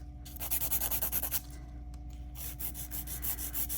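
A nail file rubs back and forth over builder gel on fingernails, quick rhythmic scratchy strokes in short close bursts with a brief pause midway.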